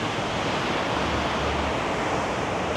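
Waves wash in at high tide on Patong Beach in Phuket, Thailand, making a steady, dense roar of surf that fills the short stretch without a break, with no voices.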